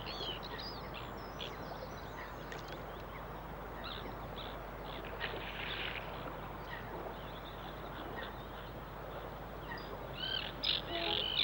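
Common terns call from artificial islands near Wembley Stadium in the city, scattered chirps and sharper cries rising faintly over a constant broad background rush, growing a little clearer toward the end.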